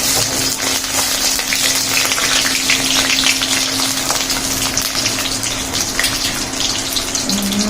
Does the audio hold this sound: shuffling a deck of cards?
no